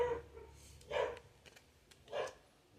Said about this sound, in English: Sorry about the dogs barking.